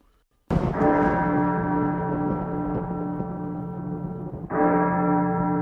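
A church bell in a belfry, rung by a monk pulling the bell rope: a loud, sustained ringing tone with rich overtones that lingers for several seconds, then a second strike renews it near the end.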